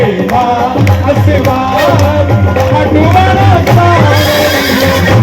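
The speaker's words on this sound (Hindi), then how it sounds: "हमारे श्याम बाबा किसकी सवारी करते हैं? नीले घोड़े" A horse neighing sound effect, loud whinnying with wavering pitch rising and falling over several seconds, played over a busy devotional gathering with music and crowd in the background.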